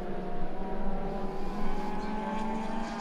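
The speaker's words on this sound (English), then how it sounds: "Great sounds from both of those Hondas as they go by" Two Honda race cars scream past on the main straight of a circuit, their engines rising and falling at a middle distance, one closely following the other.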